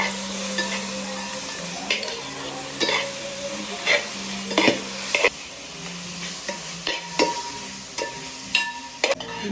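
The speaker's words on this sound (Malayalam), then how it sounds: "സവാള വാടിയതിനു ശേഷം ഇഞ്ചി വെളുത്തുള്ളി പേസ്റ്റ് നമുക്ക് ഇതിലേക്ക് ഇട്ട് കൊടുക്കാം." Ginger garlic paste fries in a pan with onions for a Kerala-style country chicken dish, a close sizzle broken by repeated scraping strokes and clanks of a spoon stirring against the pan, with no talk.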